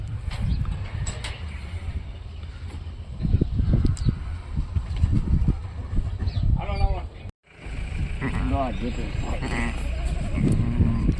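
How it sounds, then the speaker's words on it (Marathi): A two-day-old lamb bleats twice in short, wavering cries amid rustling and handling noise, with a brief dropout between the calls. "एकदम दोनच दिवसाचं पिल्लू बघून घ्या किती जबरदस्त पिल्लू दिलं आहे मेंढीचं"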